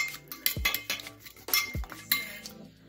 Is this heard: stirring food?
yes